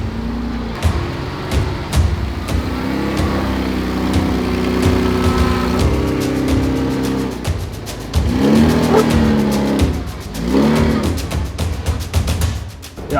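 A Ford Bronco off-road truck eases down a steep obstacle, its engine rumbling low and rising in uneven surges with scattered clunks and knocks, close by and without talk.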